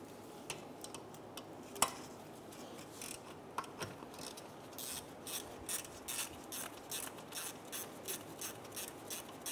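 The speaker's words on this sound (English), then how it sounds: "Using a 10-millimeter socket, I'm going to remove the ABS sensor bolt." A ratchet with a 10 mm socket backs out the ABS sensor bolt on the rear hub of a 2012-2016 Subaru Impreza, giving a steady run of close, quiet metallic clicks with one sharper knock early on.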